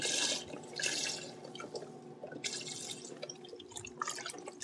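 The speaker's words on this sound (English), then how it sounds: "Now I'm just going to add a lot of broth." Broth poured into a pot of butternut squash soup, a soft continuous trickle and drip of liquid with bursts of splashing, close and alone with no talk.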